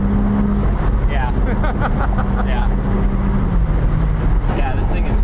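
Ferrari engine humming while driving, a low steady drone with a sustained engine tone, close and loud inside the car, as people talk over it.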